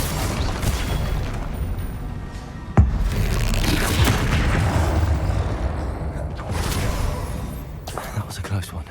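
An explosive Confringo spell blast in Hogwarts Legacy combat lands as one sharp boom partway through, set within dense, continuous battle noise with a voice talking over it.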